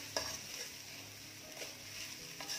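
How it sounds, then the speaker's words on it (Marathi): Grated coconut roasting in a pan over a medium-low flame, giving a soft continuous sizzle with a few scraping strokes as it is stirred, faint and close, no voices. "आणि खोबरं देखील छान रंग बदलेपर्यंत भाजून घ्यायचं आहे"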